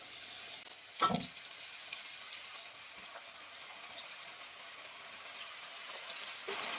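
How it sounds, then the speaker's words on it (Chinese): Pieces of raw mahua dough dropped one by one into a wok of hot oil over low heat, a brief splashing plop followed by soft, steady sizzling and bubbling at close range, with no talk. "把我们做好的麻叶生坯一个一个的给它丢入油锅中。"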